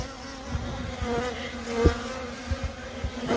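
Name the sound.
bees buzzing while a bee nest is dismantled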